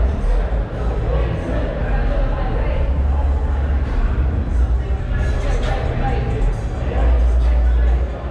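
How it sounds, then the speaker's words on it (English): A crowd at an informal street car meet in Daly City murmurs in a steady, dense babble, loud and continuous throughout with no single voice standing out. "Crowd seems pretty live."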